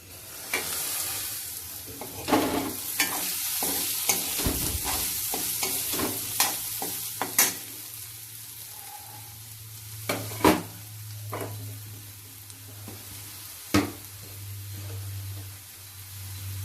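Steamed beetroot pieces being stirred in a pan after salt goes in, a scraping, gently sizzling mix with irregular spoon knocks against the pan over a steady low hum, close and moderately loud.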